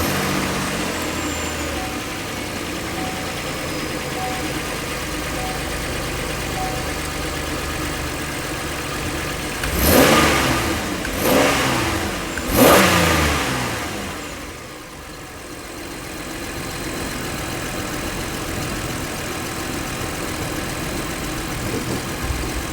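Pontiac Torrent engine started after an EGR tube replacement, idling steadily close by with a couple of brief revs in the middle before settling back to a smooth idle.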